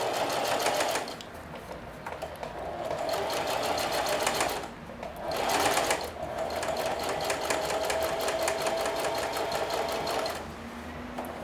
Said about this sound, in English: those Singer heavy-duty machines, this 4432